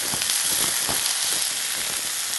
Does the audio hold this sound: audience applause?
no